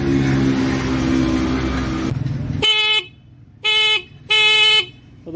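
A motorcycle horn sounds after being repaired, giving three short, loud, bright beeps close by. Engine or workshop noise comes first and fades, and the honks then stand alone with brief gaps between them.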